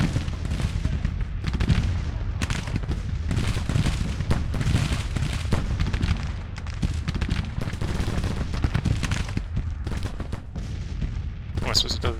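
Civil War artillery and cannon fire thunder in a Grand Tactician battle at Alexandria in June 1861, with repeated heavy booms and crackling volleys rolling on steadily, and a voice speaking now and then over the guns.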